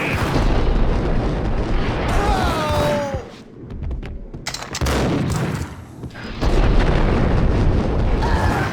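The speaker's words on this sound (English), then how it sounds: "I thought it was a bomb for sure" Loud explosion and rumbling booms in the Max Payne video game, heavy bursts repeating across the scene with short quieter gaps, mixed with faint voices.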